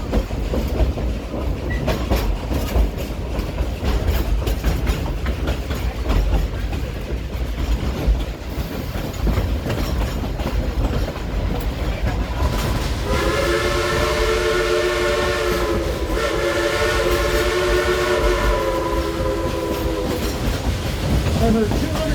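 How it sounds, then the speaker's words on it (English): A coal-fired type 282 steam locomotive rumbles steadily along, its long whistle blowing in sustained harmonic blasts partway through over continuous mechanical chugging. "a dual coal-fired steam-driven type 282 locomotive"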